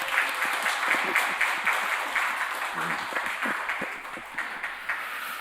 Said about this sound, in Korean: 박수 한번 하시죠. 축하하는 박수.